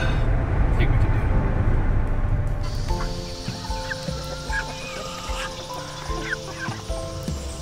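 Broiler chickens cluck and chirp steadily during morning feeding and watering on a small farm, a dense flock chorus that stays fairly loud throughout with overlapping calls.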